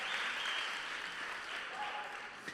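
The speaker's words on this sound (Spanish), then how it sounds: "Un aplauso para Cacha" An audience applauds for Cacha at a live event, a soft, even patter of distant clapping that runs steadily throughout.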